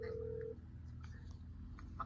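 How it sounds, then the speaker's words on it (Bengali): A phone call ringing out on the line, a single short ringback tone at the start, faint and thin, followed by quiet background hum and small clicks. "তো গাইজ রিং হচ্ছে"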